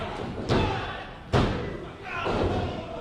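A wrestler crashing onto the ring canvas after a missile dropkick at a wrestling show: two heavy, booming thuds about a second apart over a constant crowd roar and commentary talk.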